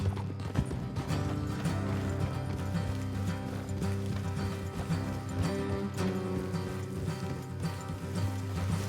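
Horse hooves clip-clopping at a steady trot or gallop in the Red Dead Redemption 2 video game, a continuous rhythmic beat under a dense layer of game music and ambience.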